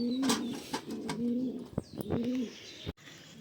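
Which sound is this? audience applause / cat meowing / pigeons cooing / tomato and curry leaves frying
pigeons cooing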